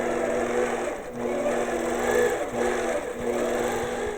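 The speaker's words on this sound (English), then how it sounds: "now I can turn on the machine's regulator and go about quilting" An APQS longarm quilting machine stitching with invisible thread hums steadily in three long runs, with brief dips between them and a constant motor tone.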